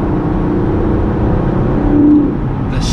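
Aston Martin DB11 engine revving while accelerating along country roads, a loud, steady cabin-heard engine drone with a brief swell near the end, no voices over it.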